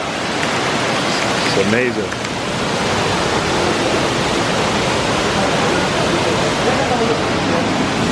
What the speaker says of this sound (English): There's the first waterfall, guys.